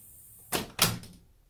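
A screen door swings shut under its cylinder closer, giving a soft rushing sweep followed by a second, firmer latching bump, moderately close and heard alone.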